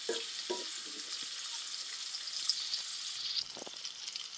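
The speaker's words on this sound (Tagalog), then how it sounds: "Gisa-gisa muna. Mix na natin. O diba, magmantika." Vegetables and smoked meat sautéing in hot oil give a steady, close frying sizzle, with a few soft stirring knocks and scrapes near the start and end.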